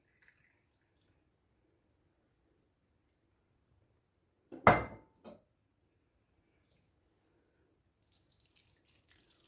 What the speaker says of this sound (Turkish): Şimdi suyunu ekleyeceğim. Suyu ölçerek ekleyeceğim size ölçü verebilmek adına.